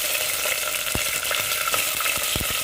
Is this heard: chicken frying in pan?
yes